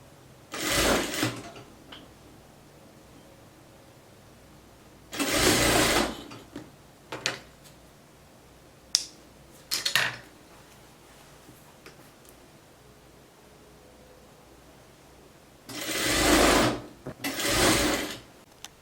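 A sewing machine stitches a blouse hem in several short bursts of loud mechanical whirring, separated by quiet pauses with occasional small clicks of handling.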